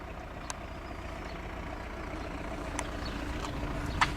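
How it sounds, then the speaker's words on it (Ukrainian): A locomotive moving along a railway line, a steady low engine rumble heard at a distance with a few faint clicks over it. "Якийсь локомотив їде."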